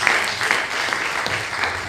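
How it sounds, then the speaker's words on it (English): A hall full of people applauding the university registrar at the official opening of an advisors workshop at the University of Ilesa, a brief burst of continuous, fairly close clapping. "Shall we please give him a round of applause?"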